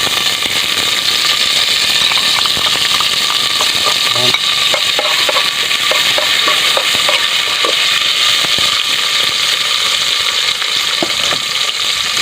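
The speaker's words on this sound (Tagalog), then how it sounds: "Gigisa tayo ng bawang." Garlic sautéing in hot oil in a pan, a dense continuous sizzle with scattered crackles and occasional stirring clatter, close and fairly loud with no talking.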